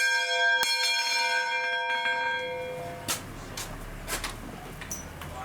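Church bells ringing in São João: a loud bell strike with long ringing overtones, then another strike, fading into a decaying hum with scattered faint clanks and knocks.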